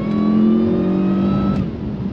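A Jaguar S-Type R fitted with an upgraded Quaife rear differential accelerates hard on a test drive, its engine a loud, steady droning roar heard from inside the car that climbs in pitch and then eases slightly.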